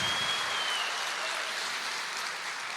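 Steady, dense applause from a church congregation during a baptism, continuous and fairly even throughout, with no voices standing out above it.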